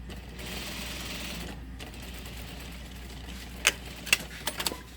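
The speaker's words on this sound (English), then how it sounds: "So I'm just stitching right where I was stitching already." Sewing machine stitching along a welt on a tailored pocket, a steady low mechanical hum with a few brief sharp clicks toward the end, close and moderately quiet.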